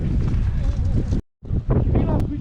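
Strong wind gusts at an outdoor air-gun shooting range, roaring and buffeting the microphone in a loud, steady rush that cuts out briefly before surging back, with voices faintly mixed in.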